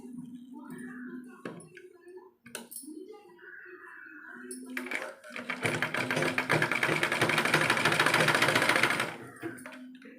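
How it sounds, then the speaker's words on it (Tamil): A sewing machine stitches along the neck joint of a blouse, first in short bursts between spoken instructions, then in a long, loud, steady run before stopping. "இந்த ஜாயிண்ட்லையே அப்படியே நம்ம தைச்சிக்கிட்டே வரணும்"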